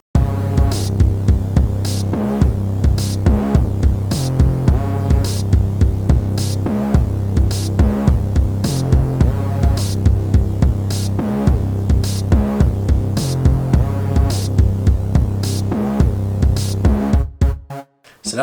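A full hip-hop beat with a thick bass line under a melody and drums, pulsing in a steady loud loop that drops out abruptly at the end.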